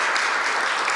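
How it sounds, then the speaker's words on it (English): An audience applauds, giving a dense, continuous burst of clapping that fills a short moment without any pause. "why don't we give them a round of applause"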